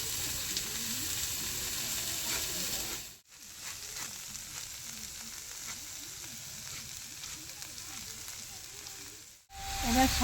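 Taro leaves hit hot oil in a heated wok (kadai) and sizzle with a steady, close, loud crackling hiss that briefly drops out twice, with no talking over it.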